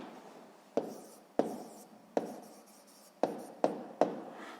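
A pen or pencil writes out a sixth-grade math answer on paper in quiet, scratchy strokes, with six sharp taps as the writer touches down or marks points.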